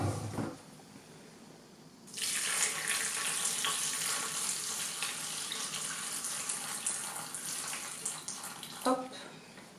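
Water pours steadily into the bowl of a Moulinex Companion food processor, a loud, continuous close splashing rush after a few quiet seconds, with a brief clink near the end.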